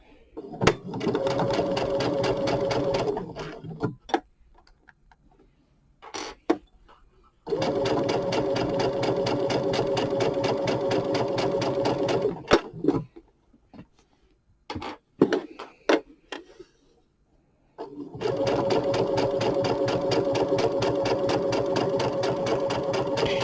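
A sewing machine stitches quilt pieces together in three long, steady runs of rapid whirring, broken by pauses filled with faint clicks and handling sounds, close and loud.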